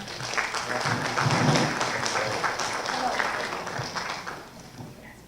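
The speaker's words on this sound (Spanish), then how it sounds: "fuertes palmas." A conference audience gives loud farewell applause to a departing speaker, a full burst of many hands that swells and then slowly tapers off, with some voices audible underneath.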